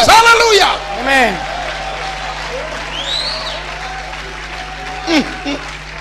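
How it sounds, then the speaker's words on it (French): A church congregation in Congo applauds its pastors with dense, sustained clapping and scattered whoops and shouts, loud and close, while a voice speaks over it. "Clap your hands for the pastors."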